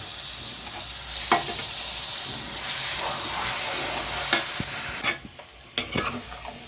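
Marinated chicken being stirred with masala as it fries in a pan, a constant loud sizzle under repeated scraping spoon strokes, ending in a few clinks and knocks as the sizzle drops away.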